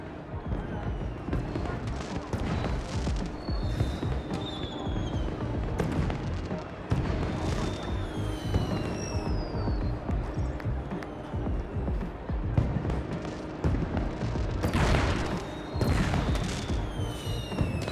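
Holographic fireworks burst at a fancy party in Union City in the game Beyond a Steel Sky, with steady crackling and booming over a busy music-like bed, brighter bursts near the start and end.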